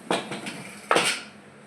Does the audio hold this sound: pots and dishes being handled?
yes